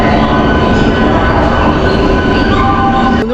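A Howrah to Kharagpur local train pulls out, heard from on board as a loud, steady rumble of wheels and rattling carriages with faint squealing tones.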